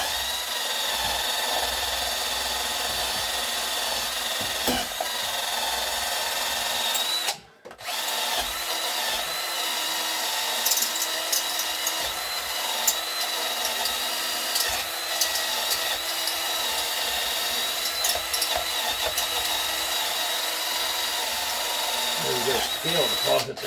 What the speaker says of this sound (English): I'm going to get my grinder or my wire brush. Let me clean her up.